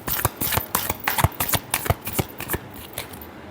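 A deck of tarot cards is shuffled up close, producing a quick run of crisp riffling snaps and papery flutters in an uneven rhythm that gradually tapers off, with no talking over it.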